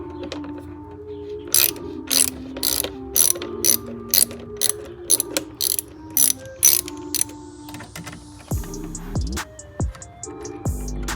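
A hand ratchet loosens 5/16 hose clamps on the intake of a 2020 Jeep Grand Cherokee V6, giving bursts of rapid, close, loud clicking in repeated strokes with short pauses, followed by a few heavier clunks of parts being handled.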